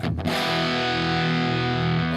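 An electric guitar played through a Marquee Club amp gives a loud, growly distorted sound: one strummed chord rings out thick and sustained, close and alone.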